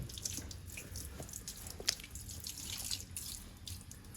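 Faint trickling water with scattered drips and small splashes as fruit is dropped into gently running water.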